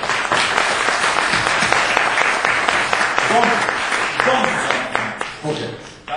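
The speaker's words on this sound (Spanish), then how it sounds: "Un fuerte aplauso para él también, por favor." Audience members clap for an introduced guest, José Ramón Fernández, with sharp individual claps in a lively burst that thins toward the end as voices start to come through.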